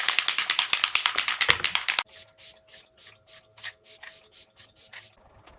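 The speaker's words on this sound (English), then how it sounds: "I got my e.l.f. Stay All Night Microfine Setting Mist." An e.l.f. Stay All Night Microfine Setting Mist bottle pumps out quick spritzes close up, a fast run of about a dozen sharp hissing puffs followed by a slower, softer series, with no talk.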